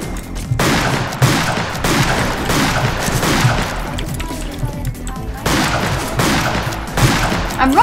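Repeated gunshots in Fistful of Frags crack out in bursts, close and loud, some single and some in quick runs, with someone talking between them.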